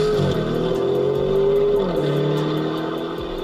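A Novitec-tuned Lamborghini Urus with a sport exhaust revs loud and close, its engine note climbing and falling in two sweeping pulls with a deep, raspy roar throughout.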